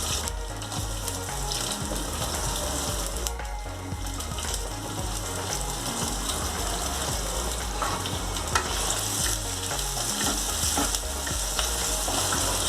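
Onion sautéing in hot oil with cumin and mustard seeds for a Kerala-style fish curry, a continuous close sizzle with stirring scrapes and occasional pops.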